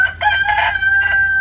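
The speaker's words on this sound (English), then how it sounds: "So if you heard a rooster crowing" A rooster on a homestead gives a loud, close crow in short pulsing bursts over a low background hum, with no one speaking.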